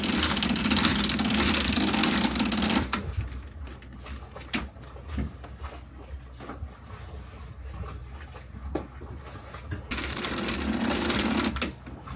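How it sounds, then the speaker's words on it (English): A sailboat's auxiliary engine runs steadily to help the boat tack, a loud, even mechanical drone that drops away for several seconds in the middle and then returns. "let's just turn the engine on to tack"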